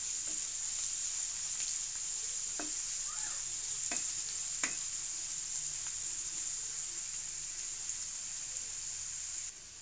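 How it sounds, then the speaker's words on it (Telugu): Sliced onion and a bay leaf frying in hot oil, a steady, close hiss of sizzling that runs throughout, with a few soft clinks of stirring and no voices. "ఇప్పుడు వీటిని లైట్ గోల్డెన్ కలర్ వచ్చేంత వరకు వేయించుకోవాలి."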